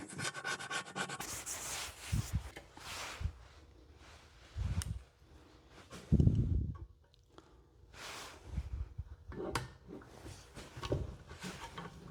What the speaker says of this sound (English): I'm going to scrape off a little residue on here a minute.